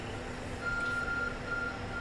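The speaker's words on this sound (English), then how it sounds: "Your phone is beeping." A faint electronic phone beep tone holds for a moment, then a second shorter beep follows, over a low steady background hum, in the game Pokémon Legends: Arceus.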